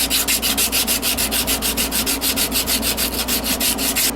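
A knife blade is rubbed over 80 grit abrasive on a backer in steady back-and-forth strokes, a loud rhythmic scratchy rasp repeating about five times a second, close and without talk.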